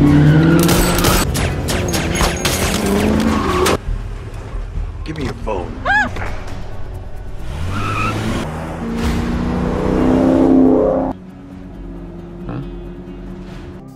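In a film chase scene, a car roars and speeds away with screeching tires and bursts of loud impacts, the engine rising and falling; people talk over parts of the action.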